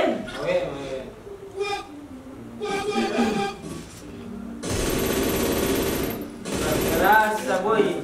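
Bursts of gunfire from a shooting video game, including an MP40 submachine gun, come in loud sustained volleys. Excited talk from players runs between and over the shots.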